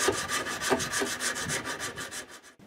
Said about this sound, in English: sitting around hand sanding for hours and hours at a time